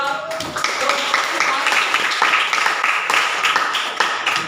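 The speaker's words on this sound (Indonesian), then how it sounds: "Beri tepuk tangan kepada" A class clapping hands in a school lesson, a loud, steady patter of many hands close by lasting a few seconds, with voices faintly underneath.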